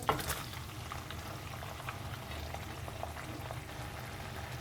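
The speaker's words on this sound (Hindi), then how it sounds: "जैसे ही मक्खन गरम हो जाए आप इसमें प्याज डाल दें" Onion frying in hot butter, a continuous close bubbling sizzle with a brief clatter at the start, steady throughout with no voices.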